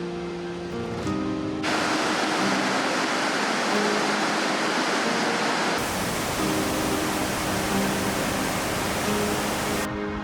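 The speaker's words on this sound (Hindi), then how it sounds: "wow what a great waterfall" Loud, steady roar of a powerful waterfall in Norway, broad rushing water filling the whole clip up close with no talk.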